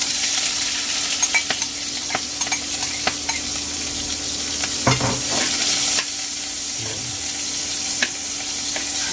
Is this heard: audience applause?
no